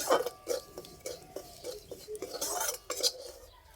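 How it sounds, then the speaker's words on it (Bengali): Semolina roasting in ghee in a kadai, stirred with a metal spoon: repeated close clinks and scrapes of the spoon against the pan in an uneven rhythm over a faint background, no voices. "সুজিটা একটু ভালো করে ভেজে নেব।"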